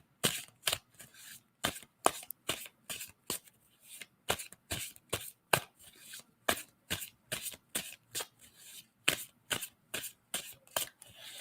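Tarot cards are riffled and bridged over and over in a steady rhythm of sharp, crisp bursts, close and fairly quiet, with no voices.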